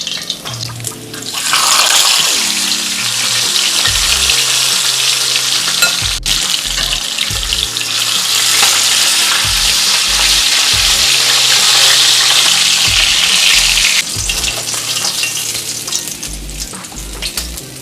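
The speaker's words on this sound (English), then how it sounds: "Finish frying the fish." Fish fries in a pot of hot oil for Jamaican brown stew fish, giving a loud, steady crackling sizzle throughout with occasional stirring knocks and no talk.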